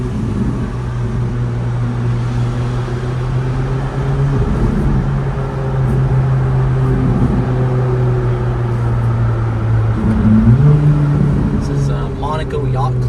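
A Ferrari drives the Monaco F1 street circuit, its steady engine drone loud and close throughout, with pitch shifts as it changes speed and a brief rise near the end.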